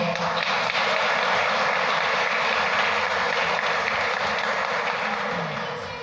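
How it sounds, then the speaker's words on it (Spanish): Applause from a church congregation for one of its members, a dense, continuous clapping that fills the room and tapers off slightly at the end. "Démosle un aplauso al hermano, por favor."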